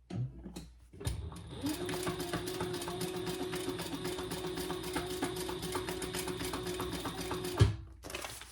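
A sewing machine sews a seam on a hobo shoulder bag in one continuous, close, rattling run of rapid stitches lasting several seconds, bracketed by brief clunks at start and stop.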